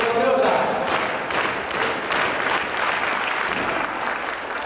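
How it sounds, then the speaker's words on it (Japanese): Crowd applause at a DTV wrestling match as Dan Parker and Hideki Hosaka call for claps, a rhythmic, unified clapping with cheers in a hall, while an announcer talks over it. "さあ、早くも皆さんに拍手を求めていくこの両者。"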